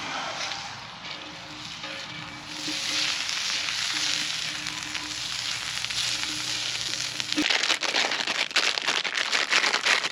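Potatoes frying in olive oil over a woodland campfire, a steady hissing sizzle with light crackles that thins out near the end as sharper clicks and taps take over.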